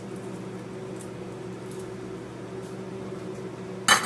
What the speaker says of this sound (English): I'm using an immersion blender.